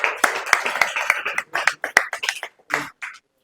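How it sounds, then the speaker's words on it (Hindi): Children in a government school classroom clap together in a quick, loud, rhythmic burst. Voices mix in before the clapping breaks off near the end. "चलिए ताली हो जाए।"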